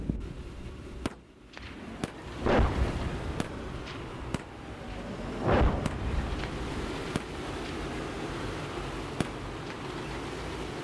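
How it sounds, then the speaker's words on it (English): Artillery shells exploding in the PC tank game Gunner, HEAT, PC!, heard from a Marder A1 IFV: scattered sharp distant cracks and a few heavier rumbling blasts over constant wind-like engine noise. "Artillery's falling"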